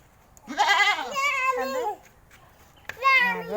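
A goat lets out two loud, wavering bleats close by, one long call and then a second after a short pause, as a chase goes on in a rural setting.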